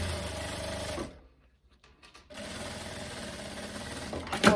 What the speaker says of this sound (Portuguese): a gente vai dobrar aqui para um lado e para o outro e vamos só costurar assim